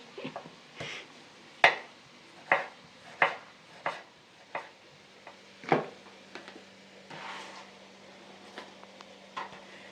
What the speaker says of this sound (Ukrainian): Нарізаємо помідорки.